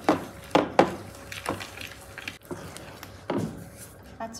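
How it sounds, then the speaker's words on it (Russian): A whisk stirs cake batter in a bowl in irregular strokes, giving soft scraping swishes and occasional light clinks against the bowl, close and fairly quiet, with no talking. "И уже венчиком перемешиваю."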